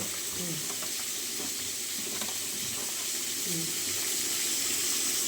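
Salted brinjal (eggplant) pieces fry in a pan for a vegetarian milk shukto, giving a steady soft sizzle and hiss under faint, indistinct background sounds.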